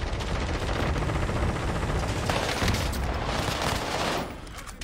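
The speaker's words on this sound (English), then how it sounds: "That guy shot me point blank in the back of the head." Dense, rapid gunfire and explosive blasts from the video game Warzone fill the mix continuously, loud and chaotic, easing slightly near the end.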